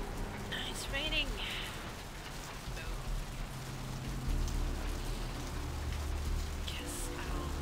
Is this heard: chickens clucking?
no